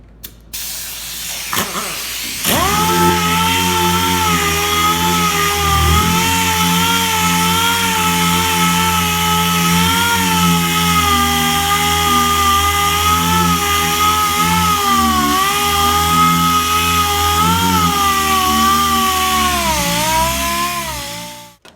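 An angle grinder fitted with an 80 grit disc sands a fiberglass repair over bullet holes, a loud steady whine with shifting harmonics starting after a brief click and running unbroken for about twenty seconds before spinning down.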